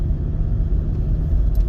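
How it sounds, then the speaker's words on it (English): A pickup truck towing a camping trailer downhill in second gear on a road toward Jerome, Arizona, with the engine braking as a steady deep rumble and drone, loud and close inside the cab, without speech. "I'm just going to downshift her into second and let the engine do some of the braking."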